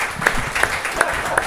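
At a comedy roast battle show, an audience claps in a brief burst of steady, evenly spaced applause, close and moderately loud, with a little background chatter.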